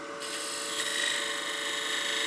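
A skew chisel, rolled on edge a few degrees off the tool rest, cuts a slight taper on a wooden bat house ornament spinning on a lathe, giving a steady, close, continuous hiss of shaving wood.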